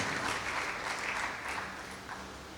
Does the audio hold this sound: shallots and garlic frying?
no